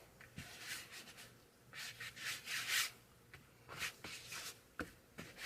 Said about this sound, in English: I'm going to take my Stays On pad and I'm going to rub it over the creases.